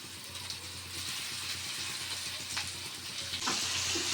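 Eggplant curry frying in hot oil in a pan, a steady close sizzle with light stirring scrapes and a few brief clinks.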